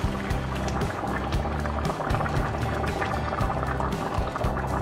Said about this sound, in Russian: И берем, заливаем чайничек. У меня уже кипяточек. Заливаем вот так.